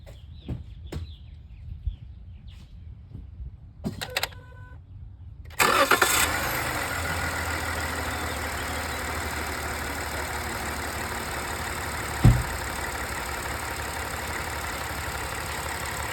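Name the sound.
car engine starting and idling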